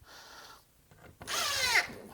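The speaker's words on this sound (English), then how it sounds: "Once you get used to your drill, you know how far to torque them." A cordless drill drives screws into a face frame wall cabinet, giving one short, close whirring burst with a rising pitch after a quiet moment.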